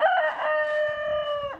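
A Chantecler rooster lets out a single clear crow, a drawn-out, fairly close call lasting over a second, with faint clucking from other chickens underneath.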